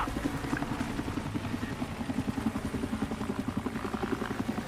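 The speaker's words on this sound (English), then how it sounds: "Helicopter?" A small Little Bird helicopter in the Xbox 360 game Battlefield 3 gives off a continuous, evenly pulsing rotor chop at moderate distance, steady throughout with no talk.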